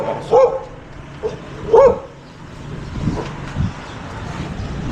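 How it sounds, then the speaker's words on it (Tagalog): A big dog barks twice in short, loud bursts, with a few softer yips and whimpers trailing after over steady outdoor background noise. "Malaking aso."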